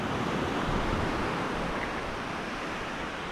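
Indian Ocean waves breaking on Kayu Menang beach in Aceh Singkil, a steady, loud wash of surf that roars on without pause, with no voices over it.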